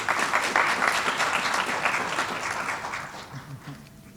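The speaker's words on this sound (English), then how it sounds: "Round of applause," An audience at an international business event in Thailand applauds a speaker, dense steady clapping that gradually thins and fades toward the end.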